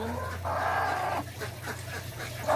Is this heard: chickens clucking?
yes